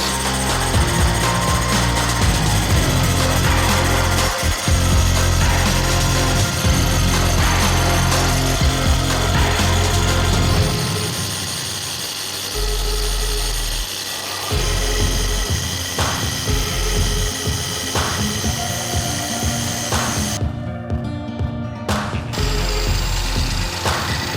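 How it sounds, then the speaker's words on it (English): An angle grinder, clamped rigidly, grinds steel stock while a shamshir scimitar is being made, giving a loud, continuous abrasive whine that briefly eases and then resumes strongly. "The angle grinder feels pretty rigid."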